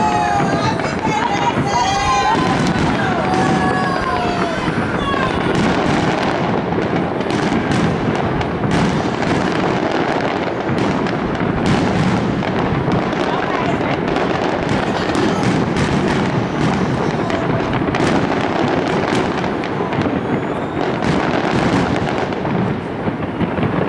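Canada Day firework mortars boom and crackle continuously at close range under wind noise, with excited voices exclaiming over the bursts throughout.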